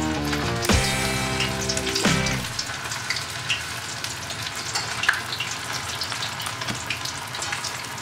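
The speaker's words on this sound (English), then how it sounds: "Who says you can't deep fry at home, baby?" Cauliflower pieces for Gobi Manchurian dropped into hot oil for deep frying at home: a loud, steady, close crackling sizzle with bubbling bursts at the start, settling into continuous frying.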